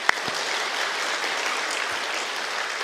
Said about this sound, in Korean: 한번 박수로 격려하겠습니다. 한번 박수 쳐볼까요?